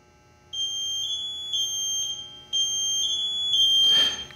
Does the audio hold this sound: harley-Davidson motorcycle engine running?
no